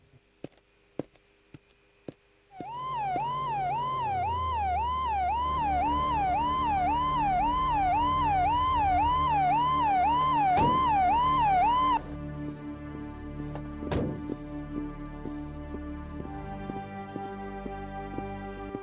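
A loud ambulance siren wails in a fast, regular up-and-down warble for about ten seconds, then cuts off abruptly and leaves a quieter hum with occasional clicks.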